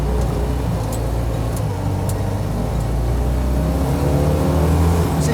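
An old Citroën 2CV pulls away hard off the line in a drag race, held in second gear, its small engine droning loud and close in a steady, strained buzz that climbs slightly throughout.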